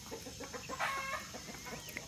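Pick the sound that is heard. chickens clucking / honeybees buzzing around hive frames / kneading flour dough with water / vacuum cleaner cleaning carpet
chickens clucking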